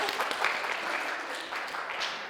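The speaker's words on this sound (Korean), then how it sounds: "네, 박수." An audience at a lecture on the space business and Jeju claps in a brief burst of applause, fairly quiet and diffuse, fading slightly toward the end.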